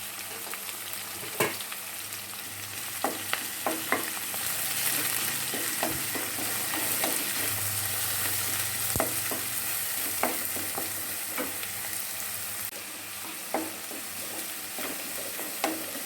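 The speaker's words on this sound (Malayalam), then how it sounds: "സവാള നന്നായിട്ടൊന്ന് ബ്രൗൺ കളറായി വരണം നന്നായിട്ട് വഴറ്റി കൊടുക്കാം നമുക്ക്" Onions sautéing in a pan for prawn biryani give a steady close sizzle, broken by scattered sharp clinks and scrapes of a spoon stirring, with no talking.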